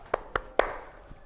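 Three sharp, evenly spaced hand claps ring out close by as part of a group clapping exercise in a classroom, each a crisp single smack followed by brief room echo.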